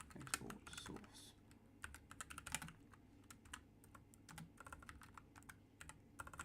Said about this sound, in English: I've got to get better with this keyboard. It's a new keyboard and I'm not used to it.